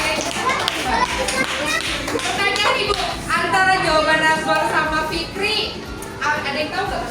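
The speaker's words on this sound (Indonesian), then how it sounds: "beri tepuk tangan buat Fikri" A class of fifth-grade pupils claps for a classmate in an elementary school lesson, a brief burst of scattered hand claps mixed with children's chatter and a teacher speaking.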